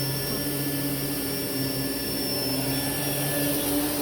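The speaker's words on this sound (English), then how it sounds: "And now let's try running the power nozzle." A Rainbow E2 Black canister vacuum cleaner runs with its first-generation centered-belt power nozzle attached, producing a steady, loud whine with a constant hum and high tonal hiss, unchanging throughout and with no talking.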